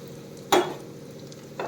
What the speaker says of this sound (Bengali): কুমড়ো ভাজাটা তুলে নিয়ে এর মাছের ডিম ভাজা দেবো, বসিয়ে দেবো।